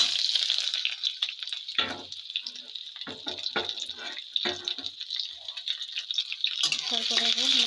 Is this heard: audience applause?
no